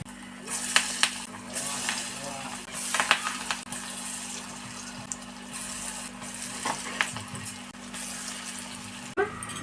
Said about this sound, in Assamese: বৰাখিনি এটা এটাকৈ ভাজি ল'ম।